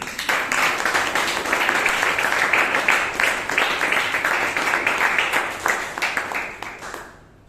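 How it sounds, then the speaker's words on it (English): An audience at a Bangalore Toastmasters meeting gives a round of applause, a dense steady wash of many hands clapping for about seven seconds before it fades out quickly. "Round of applause, please."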